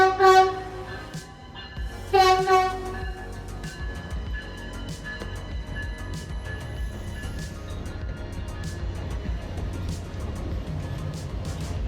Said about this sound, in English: our Acela comes to life, rolling out of Boston